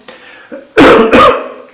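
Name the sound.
person coughing with the flu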